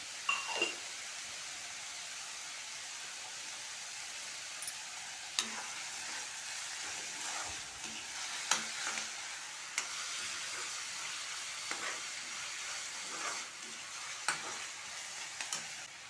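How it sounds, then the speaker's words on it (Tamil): Chopped onion, chili and curry leaves sauté in a frying pan for egg gravy with a constant sizzling hiss, broken by occasional stirring scrapes and clinks of a utensil. "நல்லா வதக்கணும்"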